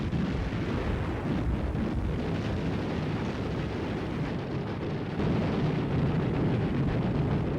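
Rumbling artillery fire from Russian batteries pounding German forces through the night during a WWII battle, a dense, continuous low boom and roar with no talk over it.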